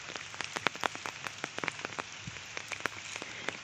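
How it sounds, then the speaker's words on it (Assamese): Rain falls steadily along a rural village road, with dense, close, fast patter of drops tapping on a surface and no talking. "এইপিনেতো বৰষুণ দিয়ে আছে ন"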